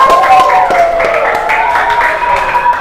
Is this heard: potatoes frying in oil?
no